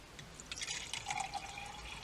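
Tap water trickling and splashing into a small container, a short quiet pour with rising gurgling as it fills, close by and alone.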